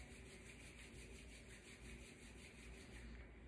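Palms rubbed briskly together during a yoga breathing practice, a steady close dry swishing friction in even back-and-forth strokes for a few seconds, stopping at the end with no talking.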